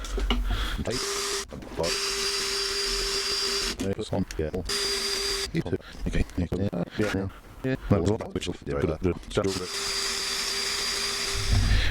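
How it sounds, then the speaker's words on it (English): A metal lathe runs steadily while turning down one side of a small part to a precise depth, a sustained machine whine with a tonal hum broken by stretches of nearby talk. "Okay, my lathe is ready."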